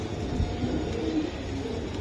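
Iranian pigeons at a pigeon market, producing soft, low cooing that continues steadily against a dull background hum.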